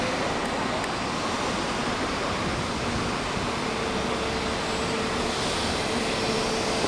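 An airliner taking off at Salvador airport, a steady, loud broadband jet roar with a faint whine above it, sustained throughout with no break.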